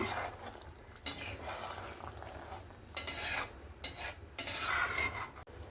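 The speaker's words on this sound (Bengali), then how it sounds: "কোপ্তাগুলো দিয়ে খালি একবার একটু নাড়াচাড়া করে নেব" Chhana koftas being stirred into a thick curry in a pan make quiet, uneven scraping and stirring strokes over a soft simmer, with several louder bursts spaced through the moment.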